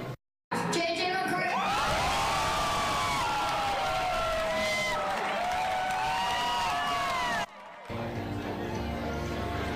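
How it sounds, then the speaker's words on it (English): Crowd in the suburbs roaring and cheering for a hometown quarterback drafted by the Vikings, a loud sustained mass of shouts and whoops with high children's voices, cutting out briefly near the end. "Listen to that crowd roar."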